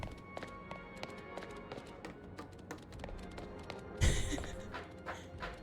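Running footsteps in Pokémon Legends Z-A, a light, regular tapping rhythm over soft game music, ending in a louder burst of sound partway through.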